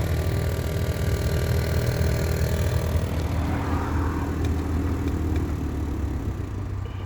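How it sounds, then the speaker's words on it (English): A noisy blower motor in a 2014 Nissan Altima runs with a steady, droning whir and hum inside the cabin, continuous and fairly loud throughout with no speech. "let's see if we can hear that noise one more time."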